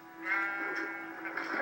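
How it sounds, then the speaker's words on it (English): A sheep in Minecraft gives a single drawn-out bleat, close and clear, lasting a second or two with nothing else over it. "ooh, a sheep."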